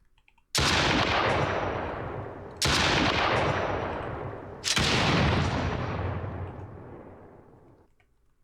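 Three loud, heavy blasts of video game gunfire, each followed by a long decaying roar, spaced about two seconds apart, with no talk.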